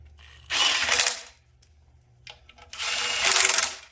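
A tool tightens cylinder head bolts on an LS engine, two close bursts of buzzing, ratcheting mechanical whir, each lasting about a second, separated by a quiet gap with faint clicks.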